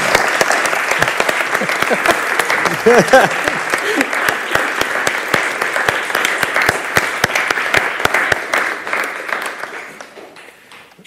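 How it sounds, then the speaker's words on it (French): An audience at a public university lecture on Swiss video game history applauds the speakers, sustained hearty clapping with distinct individual claps that slowly thins and fades at the end, a voice briefly audible early on. "Je vous propose d'abord peut-être d'applaudir nos intervenants une première fois"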